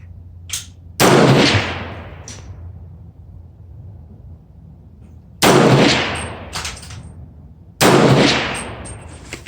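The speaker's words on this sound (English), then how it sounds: "we're going to take 3-shot freehand with 300 Blackout" A 300 Blackout rifle fires three freehand shots outdoors, each a loud sharp crack with a decaying echo, the first alone and the last two spaced closer together.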